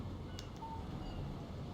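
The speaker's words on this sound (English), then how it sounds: "Text message from Barry." A phone text message alert in the Alan Wake video game: one brief electronic tone over a low background hum, with no voices.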